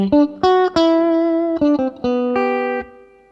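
Electric guitar through a Fractal VP4 virtual pedalboard with hall reverb, playing a short melodic phrase of sustained single notes and bends that ring out in a long, spacious tail, loud and alone with no talk.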